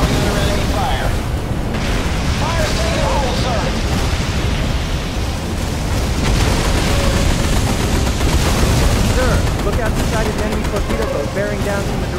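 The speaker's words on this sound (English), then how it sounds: "We are coming under enemy fire." Relentless enemy machine-gun fire and booming explosions from the Battle Stations Midway naval combat game, continuous and loud, with dense overlapping bursts and blasts filling the whole stretch.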